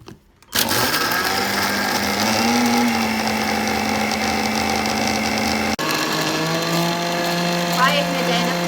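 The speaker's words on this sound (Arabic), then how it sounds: "هاي احنا جاي نطحن البسكت" A blender motor whirs steadily and loudly grinding biscuits, its pitch dropping briefly partway through before carrying on, with a voice talking over it.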